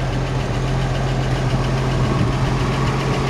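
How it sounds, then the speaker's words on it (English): A 1950 Chevrolet 3100 pickup's engine idles steadily up close, a continuous low rumble with a faint rhythmic knock and no voices. "Engine runs fantastic."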